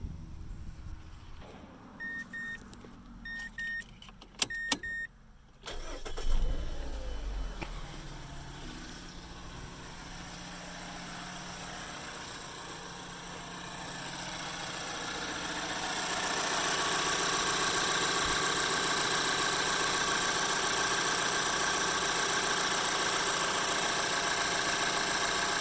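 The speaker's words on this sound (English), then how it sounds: "start the engine and see how the car running." A 2012 Mazda 3 with a Skyactiv engine starts and settles into a steady idle after new spark plugs are fitted. A few clicks and a cranking burst come first, then an even engine hum that swells slightly louder and stays constant, with no talking.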